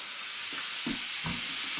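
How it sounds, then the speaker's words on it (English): Doner kebab meat fries in a pan with a soft, steady sizzle and a few brief stirring scrapes, quiet and close with no talking. "here it all is, sizzling away"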